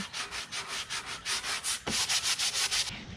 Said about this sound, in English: This is 120 grit sandpaper, basically just getting that first kind of little bit of the layer off